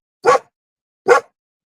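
A dog barks twice, close and sharp, with a short pause between the barks and silence around them.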